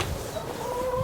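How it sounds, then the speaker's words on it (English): Hens in a coop clucking while feeding on sorghum silage, a continuous drawn-out cluck close to the microphone over a low background rumble. "these hens definitely are interested in that sorghum"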